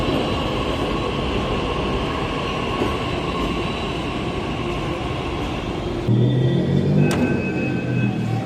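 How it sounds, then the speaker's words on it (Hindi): A Pune metro train rumbles steadily close by, then its tone shifts as it comes to a stop at the station with a brief squeal and humming. "हमारी मेट्रो भी आ चुकी है।"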